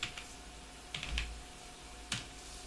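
Several quiet, scattered keystrokes on a computer keyboard: single close clicks with pauses between them in an otherwise hushed room.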